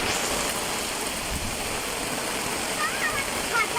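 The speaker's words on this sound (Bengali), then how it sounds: "বৃষ্টি ওর নামতেছে জোরে" Steady, dense hiss of heavy rain pouring down on a rooftop where cooking continues, a constant wash of noise with a few faint chirps near the end.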